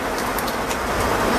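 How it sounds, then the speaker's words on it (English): Rain falling steadily, a constant broadband hiss with no gaps. "This rain is gonna distract me."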